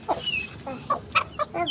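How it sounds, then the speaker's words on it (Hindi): A hen clucks in short, separate bursts, several soft clucks spaced irregularly and heard close by, with no talking. "देखो मुर्गी मेरी"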